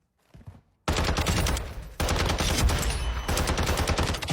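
Rapid bursts of video-game gunfire from a player shooting, loud and dense, with a short faint lead-in before sustained automatic fire that breaks briefly and resumes.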